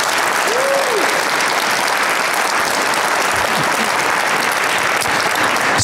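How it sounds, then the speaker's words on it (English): An audience at an incubator pitch event applauds the students, a loud, sustained burst of dense clapping that holds steady throughout, with a faint voice briefly rising early on. "So let's give them again a round of applause"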